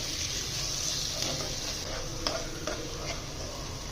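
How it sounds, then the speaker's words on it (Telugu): Curry leaves, turmeric and ginger paste are stirred in a sizzling pan for a drumstick curry, with steady frying under several sharp spoon scrapes. "ఇప్పుడు ఇదంతా ఒకసారి మనం తిప్పుకుందాం."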